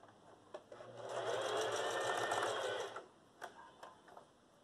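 A sewing machine stitches fabric for a mitred corner, a close, rapid mechanical whirr running for about two seconds, framed by a few soft clicks and handling taps before and after.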